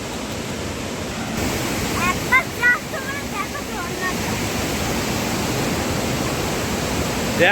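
Lodh waterfall in Jharkhand during the monsoon roars as a constant broadband rush of falling water heard from nearby, with a few brief bird chirps over it.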